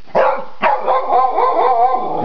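A Kerry Blue Terrier gives two sharp barks that slide into a drawn-out, whining howl, close and loud with no speech over it.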